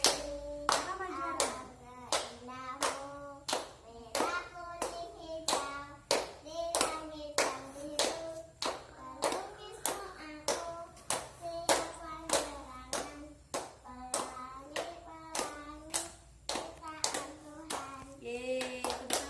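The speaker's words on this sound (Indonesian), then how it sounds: "Yeay, tepuk tangan." Children clapping their hands in a classroom, a steady run of sharp, close claps in a lively rhythm that carries on alone without talk, with small pauses between bursts.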